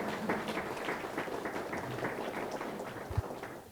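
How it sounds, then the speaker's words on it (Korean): Audience applause at a People Power Party policy forum in Korea on a dating-violence prevention bill, an indoor room of clapping hands, steady and fairly close, with a low thump near the end. "크게 박수 한번 해주시죠"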